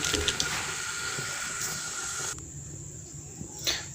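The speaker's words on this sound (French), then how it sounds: "On laisse mijoter encore." Broth simmers in a pot, a steady soft hiss with faint bubbling that eases partway through, close and fairly quiet, with no talk.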